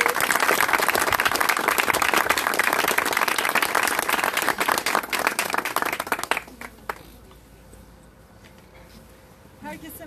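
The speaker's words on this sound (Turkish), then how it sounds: "ben hepimize yaşamdan yana bu karar için bir dostluk, destek alkışı talep ediyorum" Gathered supporters applaud in solidarity with İbrahim Gökçek after he ends his death fast, a loud, dense burst of many hands clapping for about six seconds before it drops off abruptly to quiet room tone.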